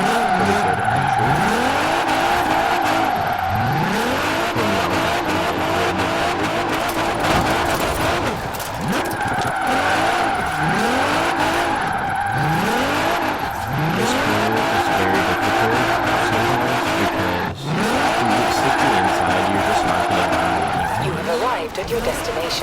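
Drift cars from Forza Horizon 4, Formula Drift machines and a custom build, sliding with sustained tire squeal and skidding over a loud, revving engine drone, in repeated sweeping rev bursts throughout with no pauses.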